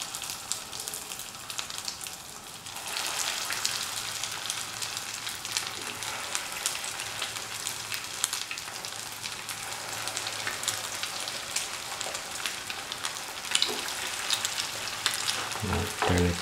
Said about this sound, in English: Take the kofta balls and put it in the oil.